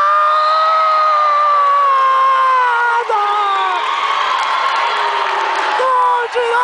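A crowd cheers loudly after a play at a women's club match between Sogipa and Número 15. Sustained, close, full-throated shouts and whoops carry for several seconds.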